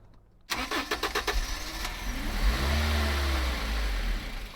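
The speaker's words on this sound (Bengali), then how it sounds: "দেখেন স্মুথ সাউন্ড খুবই সুন্দর একটা হায়েজ ওয়ান টিআর ভিভিটিআই দুই হাজার সিসির ইঞ্জিন" A Toyota Hiace Super GL's 2000cc 1TR VVT-i engine cranks and catches, then settles into a smooth, steady running hum close by, with a low rumble throughout.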